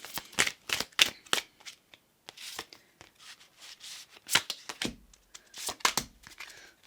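Tarot cards shuffled by hand, a series of quick papery riffles and flutters in irregular bursts, close and fairly quiet, with brief pauses between.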